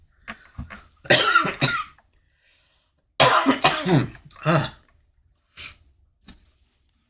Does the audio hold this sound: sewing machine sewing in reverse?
no